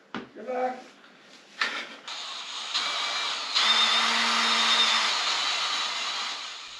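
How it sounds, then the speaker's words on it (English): A power drill boring a hole through natural stone floor tiles in a downstairs bathroom, starting with short bursts and then settling into a sustained, loud high-pitched grinding whine close by. "I first had to drill a hole through the tiles. And these are natural stone tiles."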